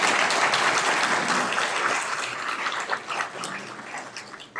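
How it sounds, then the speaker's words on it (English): Steady applause from a graduation audience at a university chemistry department ceremony, dense and sustained, fading slightly toward the end. "you guys are going to be applauding a lot, actually"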